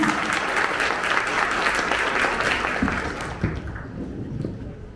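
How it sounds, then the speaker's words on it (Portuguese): Sustained applause from a church conference audience at a CRESCER event, dense and loud at first, then thinning and fading out in the last seconds. "Por favor, uma salva de palmas."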